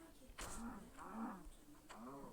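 A cow in the Minecraft video game moos three times in short, drawn-out calls spaced about a second apart, fairly close and alone without speech.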